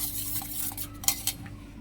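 A spoon stirs vanilla custard powder into cold milk in a bowl, giving soft scraping swirls with a couple of light clinks against the side.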